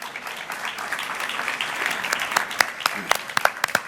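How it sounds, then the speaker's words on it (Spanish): A conference audience at the IMAGINA agriculture congress panel in Córdoba breaks into applause, which swells from a scattered start into fuller clapping with sharper claps near the end, while a voice talks faintly underneath. "Un aplauso también para recibirlo."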